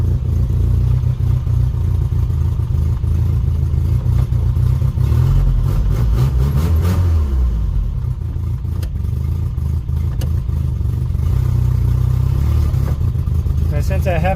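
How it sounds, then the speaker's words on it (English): A Toyota Hilux with an exhaust leak drives along, its engine rumbling loudly and steadily with a raspy, puffing exhaust note that rises and falls with the revs, while someone talks over it. "The exhaust leak sound that you hear is an exhaust leak."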